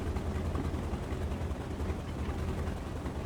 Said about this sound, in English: you can hear the engine sputtering into life there